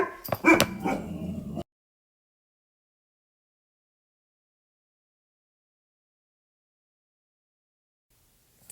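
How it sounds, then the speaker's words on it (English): A dog barking at a door: a short burst of close yips and barks at the start, then near silence. "Dog is barking at the door."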